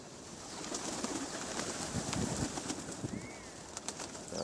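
Pigeons gathered for feeding, with soft cooing and a scatter of small calls and wing flutters over a steady outdoor background, and no talk.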